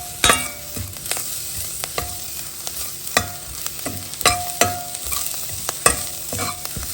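Coriander leaves fry in a pan, giving a soft continuous sizzle broken by sharp, irregular scraping and clinking strokes as a utensil stirs them, close and without speech.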